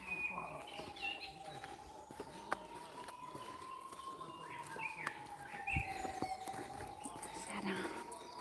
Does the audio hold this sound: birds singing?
yes